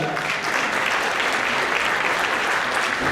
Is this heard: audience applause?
yes